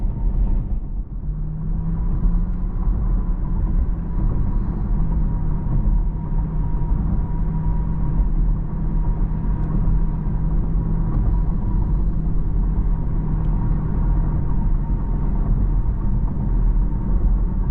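A 2022 Porsche Taycan 4 Cross Turismo electric car accelerating, heard from inside as a steady low road rumble with a faint rising electric whine, continuous and fairly loud throughout, no voices.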